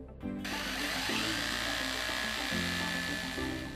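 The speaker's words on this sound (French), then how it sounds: "Dans le béton même, il fore avec son marteau perforateur." A rotary hammer bores into a concrete floor, a loud, continuous motor whine with a gritty grinding edge that starts abruptly and runs steadily close by, with no voices.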